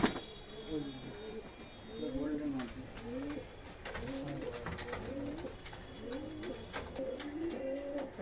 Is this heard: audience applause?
no